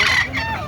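Brief crow from a tall derby-size gamefowl rooster at a market, a short strained call over a steady noisy background.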